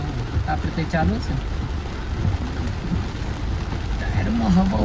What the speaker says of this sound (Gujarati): તો આવો વરસાદ પડે છે ભરપૂર.